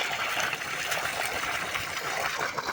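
Water flows through a farm field in a steady rushing wash with a faint trickling texture, close and continuous for a few seconds with no voices.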